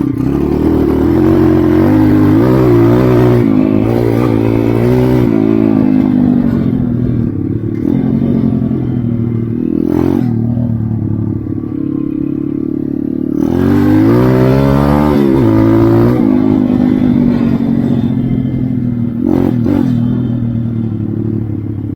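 An SSR 140 pit bike fitted with big wheels rides through sand, its small engine revving up and down in uneven bursts with clattering and scraping along the way.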